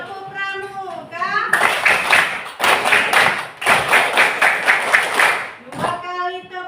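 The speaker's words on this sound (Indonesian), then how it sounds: "Masih ingat Tepuk Pramuka?" A primary school class performing the Tepuk Pramuka scout clap, bursts of sharp rhythmic group clapping in patterned sets broken by short pauses, with a teacher's voice speaking before and after the clapping.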